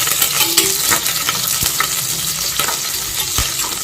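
Cumin, ginger, curry leaves, green chilli and crushed garlic frying in hot oil for sambar, a loud continuous close sizzle with stirring scrapes and sharp utensil taps.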